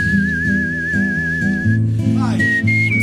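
Live open-mouth whistling of a film melody, a steady sustained tone with gentle vibrato over a loud backing track, then shorter higher notes near the end.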